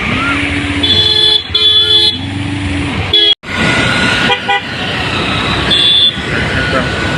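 Several vehicle horns honk loudly and repeatedly in a jammed street, with long and short toots over a constant rumble of car and motorbike engines, and a voice speaks briefly.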